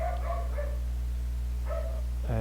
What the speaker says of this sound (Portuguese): impressionante como o cachorro late quando eu estou gravando